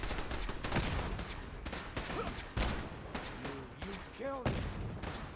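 Automated turrets fire in Fallout 4 in a steady stream of rapid gunfire bursts, heard over constant game background noise. A voice talks faintly under it and some rising chirping game effects come in near the end.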